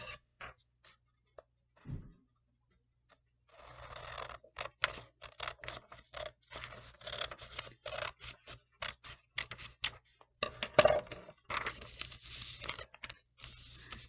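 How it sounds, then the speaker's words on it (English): Scissors snip through paper while a paper bag puppet is made, a run of short crisp cutting and rustling sounds, close and fairly quiet, with no talking. "And then we're going to cut our paper."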